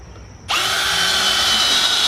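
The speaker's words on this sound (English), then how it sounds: "So he's drilling a hole" A power drill bores a hole into a broken stone piece being repaired with rebar and epoxy, starting abruptly after a brief quiet moment and then running as a steady, loud, close whine.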